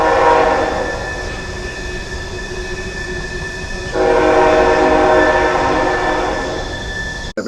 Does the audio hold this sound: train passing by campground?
yes